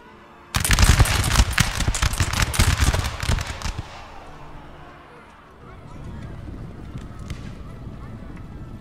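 Musket volley fire in the Napoleon Total War video game, Prussian campaign, with a rapid ragged crackle of many shots. The crackle is loud for about three seconds, then fades into a low rumble of distant battle noise.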